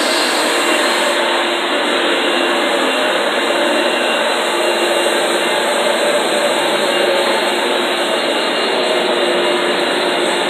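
A Rug Doctor carpet cleaning machine runs steadily in a living room, a loud, close, constant whining roar that holds without a break.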